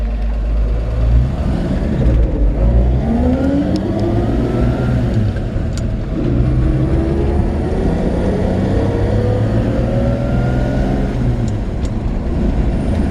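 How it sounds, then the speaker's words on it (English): A 1954 Chevy 5-window pickup's 235 six-cylinder idles and runs steadily up close, a loud, even low rumble with slight rises in revs and no talking. "The old 235 runs nice and strong."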